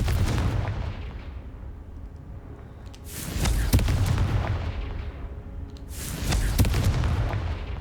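Two booming Confringo blasts from Hogwarts Legacy, roughly three seconds apart, each a sharp loud burst that decays into rumble over a continuous low background, with no speech.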